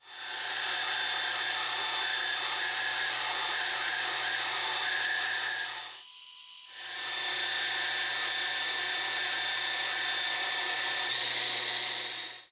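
A metal lathe takes light cuts on a small-diameter pin for a vise stop, giving a steady, close motor whine with a ringing tone that drops out briefly midway before resuming.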